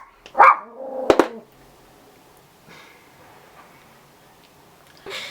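A dog barks twice close by, short sharp yaps about half a second apart, followed by a quiet room and a soft rustle; no talking.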